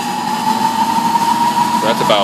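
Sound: motor-driven wooden flywheel spinning on pulleys, about 350 RPM

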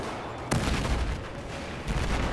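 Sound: gunfire and explosions in Battlefield 4 video game

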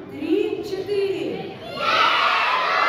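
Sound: children shouting together loudly

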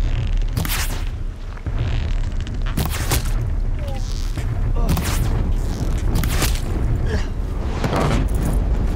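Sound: machine shooting at the player in Horizon Zero Dawn video game

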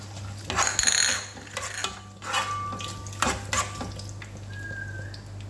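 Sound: raisins frying in oil for chicken biryani

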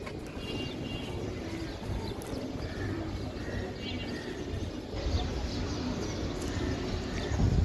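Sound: Giribaz pigeons cooing

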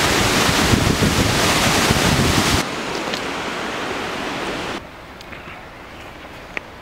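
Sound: waterfall roaring up close with spray

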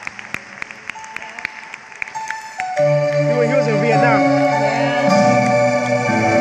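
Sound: audience applause for veterans

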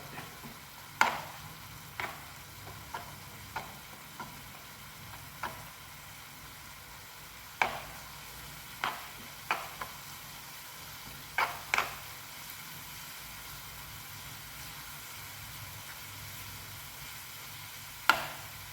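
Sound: heating cornflour or maida in a pan for pasta

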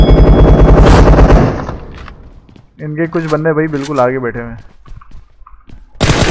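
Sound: gunfire from far away in a video game

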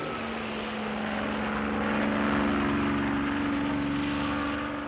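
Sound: helicopter flying

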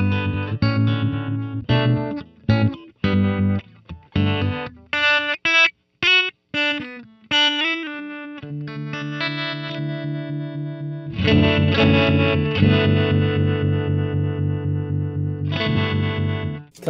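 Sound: tremolo pedal in ramp mode, Coppersound Loma Prieta

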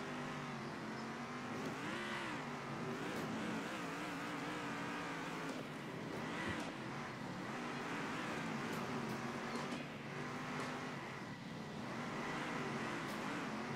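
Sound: race car engine driving, from the video game Circuit Superstars

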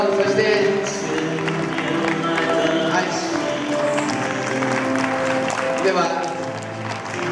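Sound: audience applause at a Taiwanese association event

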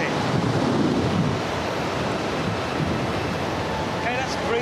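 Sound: strong wind in a typhoon simulation

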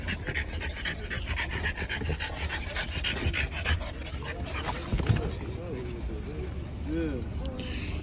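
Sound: dog panting

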